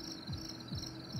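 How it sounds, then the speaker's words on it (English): Crickets chirping outdoors near a barnyard, a steady high trill with soft pulsing close by, over faint low background sound. "I'm hearing crickets"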